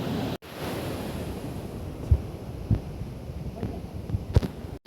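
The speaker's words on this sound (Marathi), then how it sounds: "अशा प्रकारे आम्ही पोचलो आहे भिवपुरी वॉटरफॉल." Rushing water at Bhivpuri waterfall, a steady broadband roar with a few brief thumps and a short dropout near the start, no voices.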